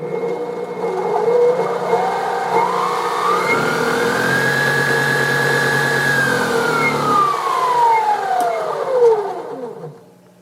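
A pickup coil winding machine spins a humbucker bobbin at up to 2500 RPM, its motor whine rising in pitch, holding a steady high tone, then winding back down to a stop, loud and close.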